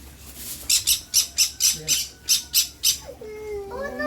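A rapid run of about ten harsh, raspy bird squawks, loud and close, followed by a voice speaking.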